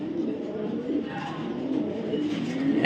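Racing pigeons cooing softly indoors, low murmuring coos running steadily under a faint background hum, with a brief clatter at the end.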